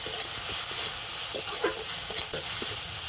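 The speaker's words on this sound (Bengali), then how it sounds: "তো সব কিছু একটুখানি ভালো করে ভেজে নেব।" Ginger paste, green chilli and tomato fry in hot oil, a continuous bright sizzle broken by occasional scrapes of stirring, close and steady with no talking.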